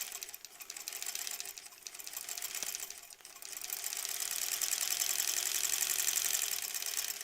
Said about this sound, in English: Ugh, I love just stitching on the line so much.